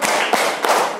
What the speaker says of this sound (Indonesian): Yuk, beri tepuk hebat.